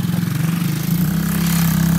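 A four-wheeler engine runs with a steady, close, droning hum and a slight rise in pitch, during a winter storm in Louisiana.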